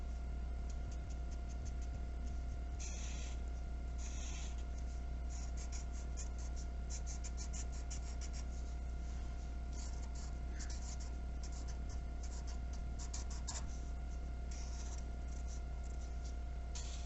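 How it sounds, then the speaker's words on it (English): A green crayon scratches on paper while an outline is drawn, giving a soft, continuous scraping with irregular strokes over a steady background hum. "let's go ahead and outline our green crayon"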